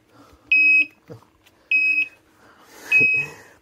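TopTes Guard-101 four-gas detector sounding its alarm: three loud, piercing electronic beeps, each under half a second and spaced about a second apart, close to the device, with faint handling noise between.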